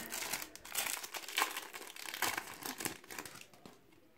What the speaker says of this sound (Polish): 5 saszetek, otwieramy